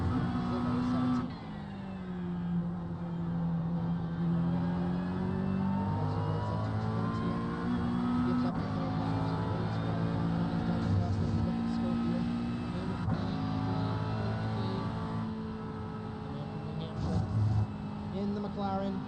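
McLaren and other sports cars race around Spa-Francorchamps in the iRacing sim, with engines droning and shifting pitch up and down the straight in a continuous loud roar while a commentator talks over it.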